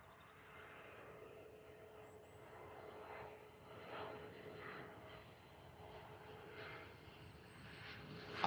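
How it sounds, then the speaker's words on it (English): A Bombardier Challenger 3500 jet doing a touch-and-go at Liverpool Airport, heard as a faint, distant engine roar that slowly swells, with no talking. "In for another touch and go."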